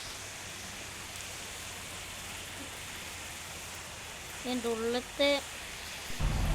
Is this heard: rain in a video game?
yes